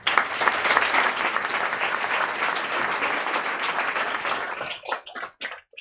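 Audience applause after a business pitch at a Lionesses of Africa event, dense sustained clapping from a room of people that thins out and breaks into scattered claps at the end.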